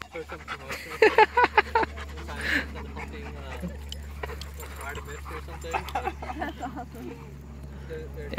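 Dogs at a dog park pant, whimper and give a short burst of yips and barks early on, near and moderately loud, as people talk over the background hum.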